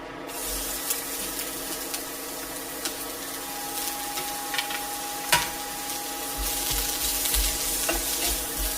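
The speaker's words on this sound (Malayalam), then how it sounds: "ചൂടായ വെളിച്ചെണ്ണയിലേക്ക് സവാള ചേർക്കാം" Sliced onions sizzle steadily in hot coconut oil in a pan, a continuous crackling hiss with a few sharper pops, growing slightly louder toward the end; no voices.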